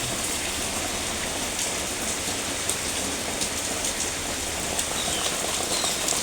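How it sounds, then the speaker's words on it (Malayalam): Heavy rain pours steadily onto surfaces, a dense, constant hiss with scattered sharper drops, loud and close. "നല്ല മഴയാണ്"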